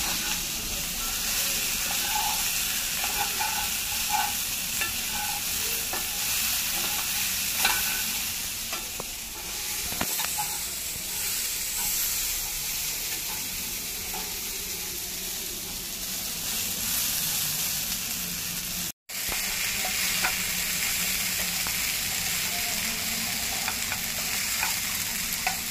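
Cauliflower and peas stir-frying in oil in a nonstick kadhai, a continuous close sizzle and hiss with intermittent scraping and stirring of the vegetables, holding steady for a long stretch.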